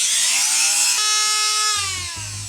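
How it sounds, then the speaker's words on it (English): A Dremel rotary tool cutting into a paintball marker cap gives a loud, high whine that dips in pitch as it bites the material, then steadies, close and alone. "Since we don't have a vise, we're just going to use the Dremel."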